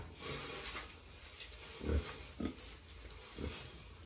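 Pigs grunt and oink intermittently on a farm while being moved to a new pen, low scattered grunts at moderate distance against a constant background hiss.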